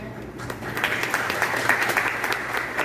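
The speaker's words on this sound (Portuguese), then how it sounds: "E uma salva de palmas" Lecture audience gives a steady round of applause at the opening ceremony of an academic event, a dense wash of many hands clapping throughout at moderate loudness.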